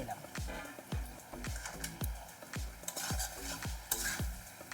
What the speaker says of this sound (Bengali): ভালো করে আমি উল্টে পাল্টে কষিয়ে নিচ্ছি।